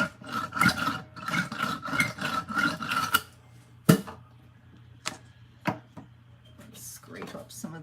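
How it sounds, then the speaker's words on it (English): Wet, gooey clay being scraped up in a pottery studio, a run of close rasping strokes followed by a few sharp isolated scrapes and knocks, with a voice talking quietly in places. "Scrape up some of this gooey clay."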